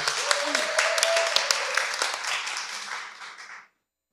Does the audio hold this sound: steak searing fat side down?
no